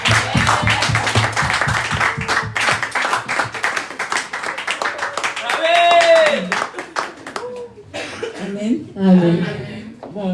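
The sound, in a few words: church congregation applauding for sister Sarah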